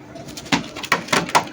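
A racing pigeon, slightly moulting, gives a few short coos in quick succession, close by and fairly clear, with no talking over them.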